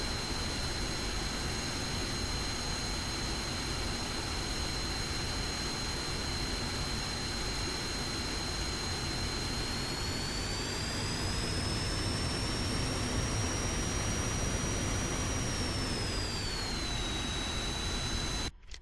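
An F-5E Tiger II jet taxiing in the DCS World flight simulator gives a steady, loud whine with a hissing roar that holds evenly, its high tone rising slightly and then falling back near the end.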